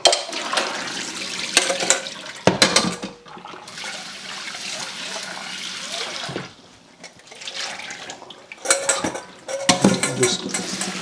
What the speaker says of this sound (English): Just give them a final rinse.